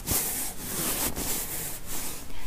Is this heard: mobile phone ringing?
no